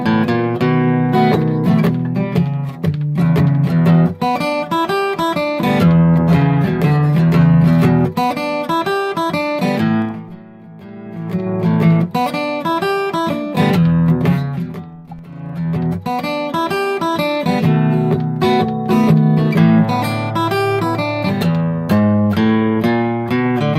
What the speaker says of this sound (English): We're going to expand on the blues shuffle pattern that we worked on in lesson 1.